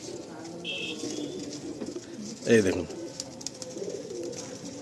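Soft cooing of young pigeons nearby, with a brief louder burst of wing flutter or calls, while a person talks over it.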